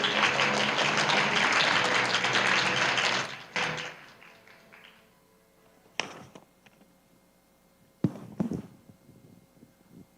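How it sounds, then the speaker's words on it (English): Applause at a parliamentary forum closing ceremony welcoming Taiwan's foreign minister: a dense burst of clapping for about three seconds fades out, followed by a few scattered thumps and taps in a quiet hall. "Please give him a warm round of applause."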